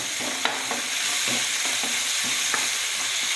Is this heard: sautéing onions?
yes